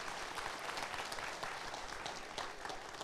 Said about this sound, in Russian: Аплодисменты Ярославу, спасибо большое